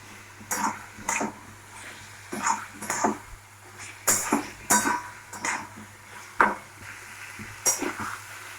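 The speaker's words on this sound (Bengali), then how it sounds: "পটলটা দিয়ে আমরা একটু কষিয়ে নেব।" Pointed gourd stir-fries in a pan, with bursts of spoon scraping and clattering against the metal about once a second over a faint background sizzle.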